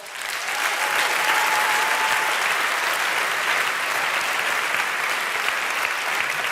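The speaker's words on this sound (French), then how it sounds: "sous vos applaudissements" A full audience at a French awards evening applauds, a thick, even roar of clapping that swells in and holds loud and steady without a break.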